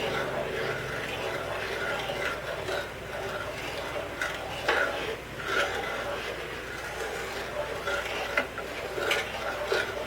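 Salted almond caramel being stirred in a pot while it cooks toward firm ball stage, a steady scraping and swishing of the spoon with faint bubbling and sizzling beneath, close and continuous.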